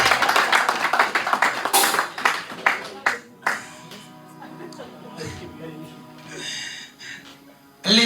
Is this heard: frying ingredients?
no